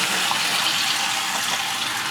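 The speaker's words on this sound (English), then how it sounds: "I'm going to turn the water on." Water runs from a tap inside a 2023 Forest River Cherokee 39DL destination trailer, a steady, close, hissing flow that holds at an even level for the whole two seconds with no talking.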